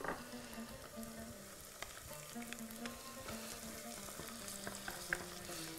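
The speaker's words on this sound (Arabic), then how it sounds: "باش يقلي الخضرة من الأول" Vegetables frying in a pan with tomato concentrate and harissa, a steady close sizzle with occasional stirring scrapes and clinks, no talking.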